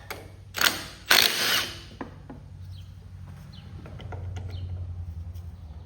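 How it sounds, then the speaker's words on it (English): A 9/16 socket on a ratchet loosens the flywheel driver cog of a Kohler KT17 engine in a Cub Cadet 782 tractor. Two loud, close clattering bursts come early, then faint scattered clicks over a low hum. "Now it's 9/16. We're going to take the driver off."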